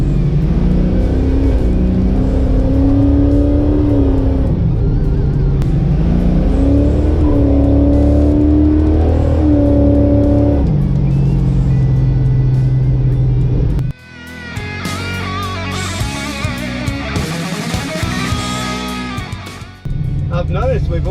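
A 1969 Chevy Camaro with a 327 V8 rumbles loud and close through its exhaust, the revs rising and falling in steady swells before a brief lull and a harsher, higher roar near the end.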